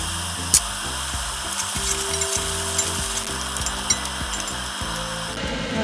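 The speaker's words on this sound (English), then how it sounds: "Going to pan fry the potato." Potatoes pan frying in olive oil give a loud, steady sizzle, with occasional utensil clinks and stirring over the continuous crackle.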